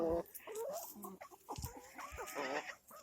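Bantam chicken clucking in a backyard flock: a run of close, irregular clucks and squawky calls, moderately loud, with a few scuffing noises and a sharp sound at the very end, no talk over it.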